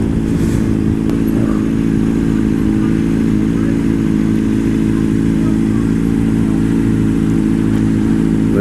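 Sport motorcycle engine droning steadily and loudly throughout, a sustained mid-pitched roar with slight revving variation, heard near an outdoor dyno area among bikers.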